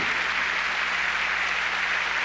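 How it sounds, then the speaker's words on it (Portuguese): A church congregation applauds steadily, a dense even wash of clapping from many hands that holds throughout with no speech over it. "Vamos agora aplaudir Jesus."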